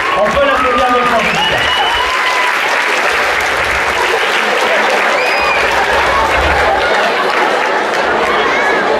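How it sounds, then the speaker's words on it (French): Audience applauding at a hypnosis stage show, a steady roar of clapping with cheers and crowd chatter running throughout, and a voice briefly heard over it. "On peut l'applaudir avec toi."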